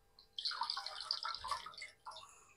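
Water poured off washed lentils splashes out in a short, faint, continuous stream for about two seconds, then a brief trickle, with no talk.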